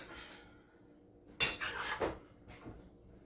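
Beef noodle stir-fry (dry-fried beef ho fun) scraped and piled onto a plate, a sharp utensil clatter followed by a short scraping burst and a softer knock, with quiet moments around them.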